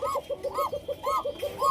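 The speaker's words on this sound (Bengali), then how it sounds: "সাদা কালো মিক্সড যে কালারটা দেখতে পাচ্ছেন কবুতর, মাদি কবুতর এটা" A white-and-black mixed female Bashiraj Koka pigeon coos in soft, rhythmic bursts, each a short rolling coo followed by a pause, repeated several times, close and moderately quiet with no voices.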